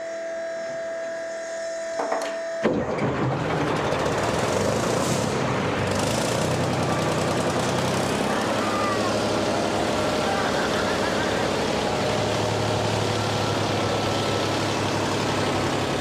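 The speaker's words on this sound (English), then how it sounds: "mail-order check engine has exploded to life on the second try" A Soviet BMP-1 infantry fighting vehicle's mail-order replacement engine catches abruptly after near silence, then settles into a loud, steady, buzzing diesel idle with rough mechanical texture, close by and continuing without talk.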